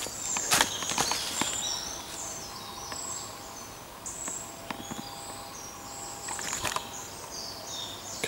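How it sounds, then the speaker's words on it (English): Birds chirp and call at a distance in a quiet autumn woodland, with a few soft crunching steps on fallen leaves and faint insect buzz beneath. "Beautiful birdsong in this place"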